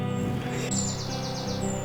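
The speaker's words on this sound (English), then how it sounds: "That bird, shut the fuck up." Outdoors, a bird gives a short run of bright, high chirps in a quick rhythm, fairly close and clear over a low steady background hum.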